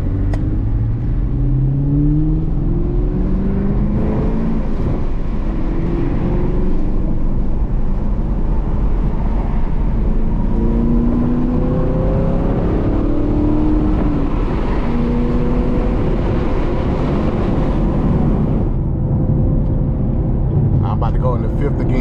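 A Chevrolet Camaro 2SS 1LE V8 with a six-speed manual pulls hard through several gears, its loud engine note rising and dropping at each shift, heard from inside the cabin.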